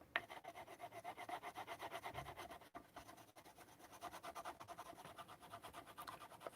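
Leather sheath edge slicked by steady back-and-forth rubbing, a rhythmic rasping swish repeated close up and alone, with a brief pause midway.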